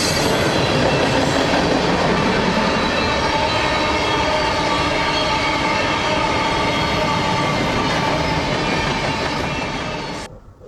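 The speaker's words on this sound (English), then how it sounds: "The camera captured the exact moment a train car derailed and nearly crashed into a house" A derailing rail car loaded with plastic pellets gives a loud, continuous rumble and metallic rattle throughout, with steady grinding clatter before a sudden cutoff at the end.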